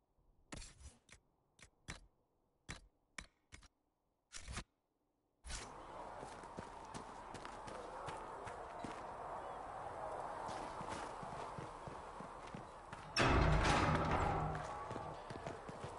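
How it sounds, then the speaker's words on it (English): Horse hooves clip-clop in Dragon Age Inquisition, first as sparse, sharp isolated knocks separated by silence, then a denser stretch of movement and ambient noise with a louder burst near the end. "Have you seen the horses Master Dennett sent the Inquisition? They're magnificent."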